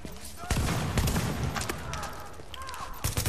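Shotgun fire in the game The Division beta, several sharp close blasts in quick succession over a few seconds with other gunfire and rattling between them, loud throughout.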